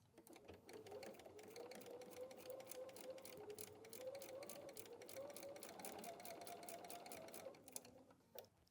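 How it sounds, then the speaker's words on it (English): Sewing machine stitching a quilted wall-hanging seam, a steady continuous motor whir with rapid needle clatter running unbroken for several seconds before stopping, close and fairly loud. "Let's just go sew it."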